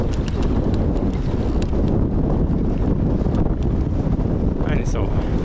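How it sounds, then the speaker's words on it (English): Strong wind at Stanage Edge in the Peak District buffets the microphone throughout, a constant loud roaring rumble with gusty peaks. "bloody windy"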